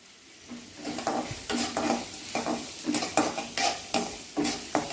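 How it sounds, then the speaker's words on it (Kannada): Onion fries in a pan for khara bath, a steady sizzle broken by rhythmic, close spatula strokes scraping the pan roughly twice a second. "ಈರುಳ್ಳಿ ಒಂದು ಸ್ವಲ್ಪ ಫ್ರೈ ಆಗಲಿ"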